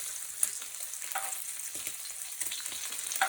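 Turkey bacon sizzling steadily in hot grease in a pan, a dense, even crackle and hiss with small pops, close and continuous.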